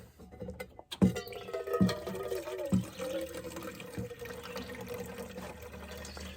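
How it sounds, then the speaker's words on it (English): Water running into a 48-ounce cup for coffee, a steady liquid fill rising in pitch with a few brief knocks at the start, close by and moderately loud with no talking. "fill up some water here."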